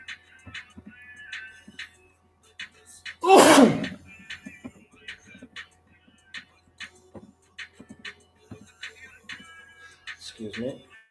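One loud, close sneeze bursts out once in a quiet room, followed by light background clicks and small rustles with brief vocal sounds near the end.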